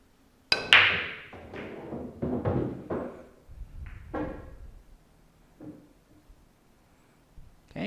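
Cue ball striking the 1 ball head on in a 9-ball race to 3 on a pool table: a sharp close click followed by several lighter ball knocks and rolling clacks, then quieter scattered taps.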